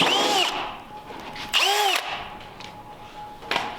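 Power drill boring clearance holes for plugs in an LS-swapped twin-turbo 427 Camaro build, two close whirring bursts that rise and fall in pitch, with a shorter third burst at the end.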